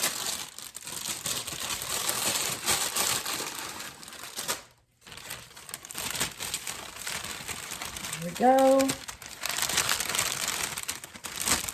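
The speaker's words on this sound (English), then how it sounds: "I'm going to open this bag, and I'll put some of this Easter grass down in there." Easter grass crinkles and rustles as it is stuffed into a gift bag, a steady papery crackle with a short pause midway, while a person talks over it.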